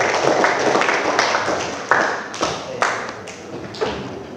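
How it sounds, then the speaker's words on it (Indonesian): Classroom applause led by a teacher, a brief spell of clapping that breaks into a few separate louder claps and slaps, near and fairly loud. "Aplaus untuk hari ini dulu."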